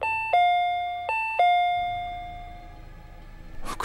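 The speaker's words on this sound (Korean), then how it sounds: "초인종 소리가 들렸어." A two-tone electronic doorbell chimes twice in a horror radio drama, each ding-dong ringing out clearly and decaying into a quiet room, followed by a brief rustle at the end.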